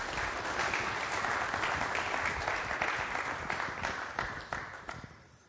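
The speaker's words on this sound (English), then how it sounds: "Can we have an applause for these guys?" A crowd at the LibreOffice Conference 2016 bursts into full, dense applause that holds steady, then thins into a few last separate claps as it dies away.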